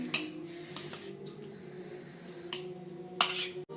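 Chowmein and chilli chicken are served onto a plate with a few short, sharp clinks and scrapes of a utensil against the dish, separated by quiet gaps.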